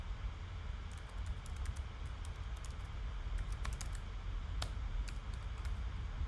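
Keys clatter on a computer keyboard in an irregular run of close, crisp taps over a low steady hum, with no talking.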